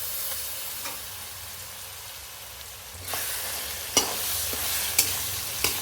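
Spinach spice paste for Andhra palakura ulli karam sizzles and hisses steadily in a pan over low flame. A few sharp scrapes of stirring cut through the constant frying noise, which grows louder partway through.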